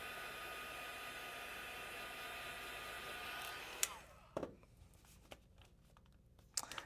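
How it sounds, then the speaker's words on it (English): A heat tool blows a steady, close whooshing roar while heat-setting two layers of stamped ink for about four seconds, then cuts off, leaving faint rustling and a few light taps. "I'm going to heat set this a little bit because I've got two different layers of ink"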